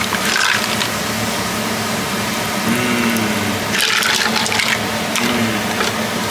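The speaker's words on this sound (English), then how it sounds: "Now we have the lobster stock. Lobster stock. Drain it." Lobster stock drains from a pot in a home kitchen, a steady liquid pour and splash with a few clinking, scraping bursts over a constant wash.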